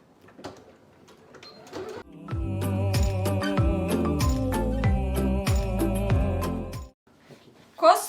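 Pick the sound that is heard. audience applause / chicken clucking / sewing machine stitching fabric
sewing machine stitching fabric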